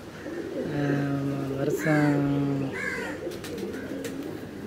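A racing pigeon coos close by in a few drawn-out, throaty phrases, with a voice talking over and between the calls.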